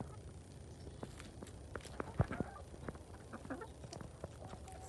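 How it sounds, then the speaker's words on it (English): Chickens and a rooster inside a winter coop in Michigan give faint, scattered clucks and scratchy footsteps, distant and quiet against a steady low background hum. "You got Grandma and the rooster"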